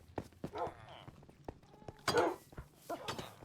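Horse clip-clop hoofsteps and snorting from horses at a base in Minecraft Bedrock Edition, a scattered run of short knocks and thuds with a louder burst midway, quiet and mixed with brief noises.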